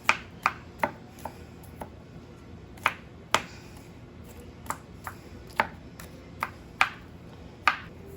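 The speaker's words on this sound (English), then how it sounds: "So I'm just rough chopping." Carrots roughly chopped with a knife on a cutting board, crisp sharp knocks at an uneven pace, close and clear, with short gaps between clusters of cuts.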